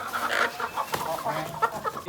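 A desi rooster on an open organic farm gives a few soft, short clucks as it is released, close to the microphone but fairly quiet, with a bit of handling noise around it.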